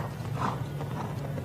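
Horse's hooves striking arena footing during a show jumping round at a FEI World Cup Jumping competition in Ocala, a rapid muffled beat of strides under steady crowd and venue noise, moderately close.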